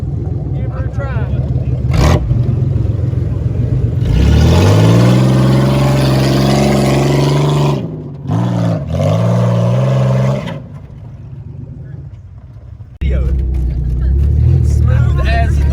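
An off-road driving car's engine revs hard while climbing a deeply rutted hill at Wildcat Offroad Park, surging and falling in long strained pulls with brief dips. Voices are heard over the engine noise.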